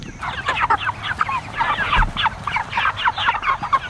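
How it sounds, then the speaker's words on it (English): Chickens cluck and chatter steadily in a close, busy run beside a trailer being cleared out, with overlapping calls forming a dense rhythmic pattern over a faint low rumble. "Grabbing chicken."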